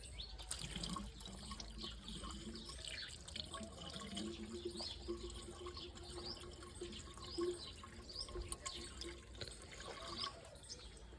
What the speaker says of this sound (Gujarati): હવે આપણે પાણી ભરી દેવાનું છે અંદર।